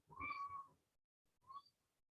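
A cat meows twice nearby in a quiet room, a longer meow followed by a softer, shorter one.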